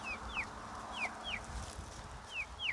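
Chickens on a hobby farm make short, high-pitched calls that repeat in a loose rhythm over a low, murmuring barnyard background.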